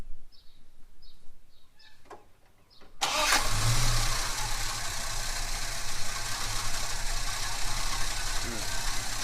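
Holden HK Premier wagon engine cranks briefly after a few quiet moments and catches, then settles into a loud, steady running idle close to the microphone.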